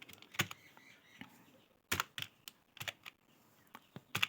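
Keys tapped on a keyboard to enter a file name, with irregular clusters of quiet, close clicks separated by short pauses.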